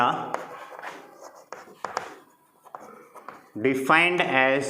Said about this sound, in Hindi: तो इसे मैथमेटिकली फॉर्म में लिखेंगे